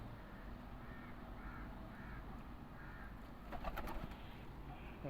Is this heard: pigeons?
yes